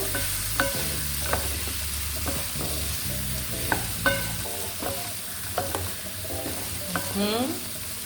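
Potatoes with garlic and spices sizzle in a pan after a little water goes in, under steady frying hiss and repeated clicking strokes of a stirring utensil, close and fairly loud.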